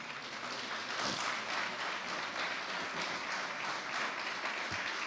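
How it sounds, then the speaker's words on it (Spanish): A church congregation applauds in a steady, dense wash of clapping that holds at an even level throughout, with a few faint voices mixed in. "Aplauda al Señor en esta mañana."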